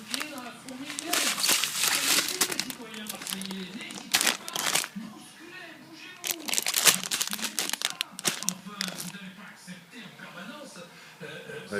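Snails being mixed with salt make a wet, crackling crinkle in bursts, heard under people talking close by.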